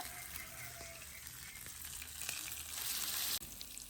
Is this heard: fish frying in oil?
yes